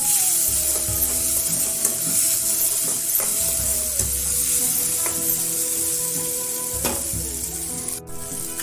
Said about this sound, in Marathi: दोन मिनिट तेल सुटेपर्यंत परतून घ्यायचं